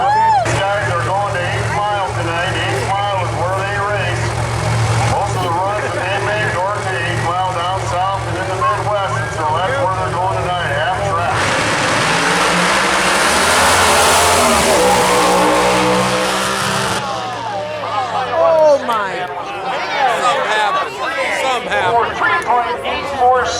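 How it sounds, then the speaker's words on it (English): A school bus funny car at a drag racing event roars loudly down the strip, its engine surging steadily and peaking in a bright, harsh blast before easing off, with crowd noise and a commentator's voice running over it. "This school bus funny car I'm going to show you for the first race."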